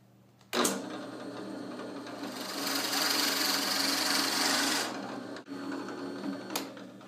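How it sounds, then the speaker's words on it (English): A drill boring a hole through a clamped wooden pen blank, a steady whirring motor drone that starts abruptly, holds for several seconds, then shifts pitch as it winds down and stops. "I'm going to put it into this to clamp it and then drill a hole in it."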